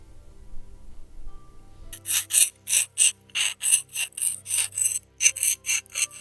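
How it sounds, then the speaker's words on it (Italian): Broken pottery shards being filed smooth, inner and outer edges, for a kintsugi gold repair. After a quiet start comes a steady rhythm of about a dozen close, raspy back-and-forth file strokes. "Allora cercheremo di limare sia la parte interna che la parte esterna."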